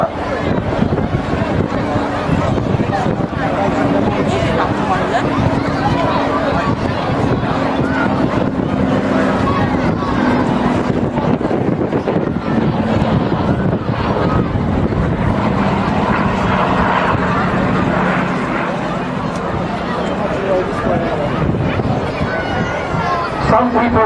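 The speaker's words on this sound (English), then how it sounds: "This is the fantastic Douglas Dakota." A Douglas Dakota aeroplane passes at the Herne Bay airshow, its loud, steady propeller drone filling the whole stretch, with a voice talking over it.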